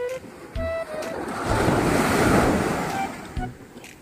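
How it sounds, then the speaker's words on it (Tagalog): Big ocean waves roll in along a shore, building to a loud, rushing surge in the middle before easing off. Wind buffets the microphone, and no one speaks. "Laking alon."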